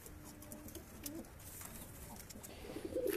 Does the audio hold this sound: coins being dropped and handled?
no